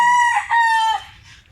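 A rooster crows once, loud and close, a bright drawn-out cock-a-doodle-doo that fades into a trailing end over quiet background.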